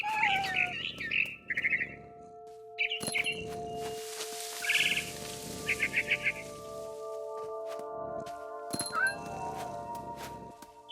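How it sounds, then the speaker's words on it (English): A barn swallow in the video game What Remains of Edith Finch chirps in short bright bursts and trills, repeated in clusters over quiet ambient tones and music, with brief clicks and low shuffling between calls. "Then I heard chirping outside my window. It was a barn swallow going back to her nest."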